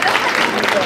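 An outdoor summer concert crowd at a show in Bompensiere claps in a dense, steady burst of applause, loud and close, with voices mixed in.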